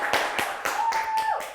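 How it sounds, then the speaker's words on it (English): A handful of people clap in a short burst for a student's accomplishment on a school news show, five or six distinct, evenly spaced claps, close and fairly loud. "Let's give Caroline a huge round of applause for that big accomplishment."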